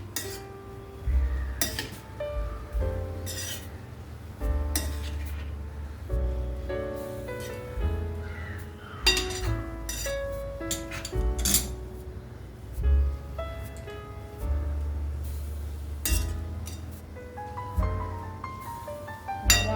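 Carrots cooking in a pan as milk is stirred in with a metal spoon, making repeated clinks and scrapes against the pan in an uneven rhythm, close and moderately loud, with no talking.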